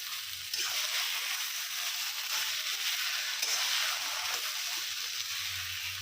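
Chopped coriander and spices stirred in a pan for aloo paratha filling, a continuous soft sizzle and scraping slosh with faint bumps of the spoon, close and alone without talk.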